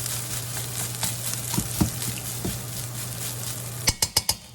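Rice stir-frying in a hot wok gives a steady sizzle with scattered scrapes and knocks, closing with a quick run of four sharp metallic clanks of the utensil against the wok.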